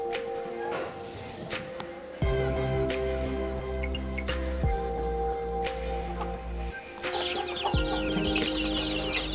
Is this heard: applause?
no